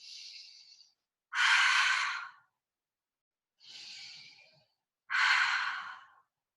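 Slow, deep breaths during a calm hatha yoga practice: two soft inhales, each followed by a louder, longer, airy exhale, close and alone with silence between.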